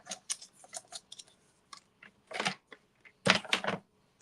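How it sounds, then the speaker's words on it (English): Paper being cut in half with scissors, a series of crisp snips and short rustling strokes, close and fairly quiet, with two longer louder slicing bursts toward the end. "Just cut it in half."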